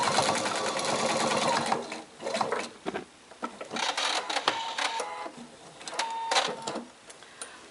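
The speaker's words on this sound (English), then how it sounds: "And we're going to backstitch on this end." A sewing machine backstitching the end of a tote bag seam, with close bursts of rapid mechanical stitching that stop and restart several times.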